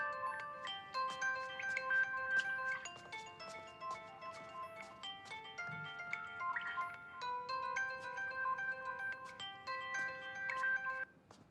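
A phone ringtone plays a melodic electronic chime pattern that repeats steadily and fairly quietly for several seconds, with no talking over it.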